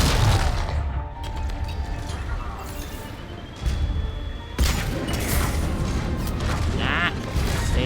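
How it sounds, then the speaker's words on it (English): Enemy gunfire in the shooter Mass Effect 3, with heavy booming impacts and clattering shots arriving in bursts over a continuous loud battle din. "Oh, he's shooting me."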